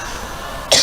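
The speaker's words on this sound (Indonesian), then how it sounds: "Nah itu batuk." A single short, sharp cough close to the microphone at the very end, following a steady murmur during a religious sermon.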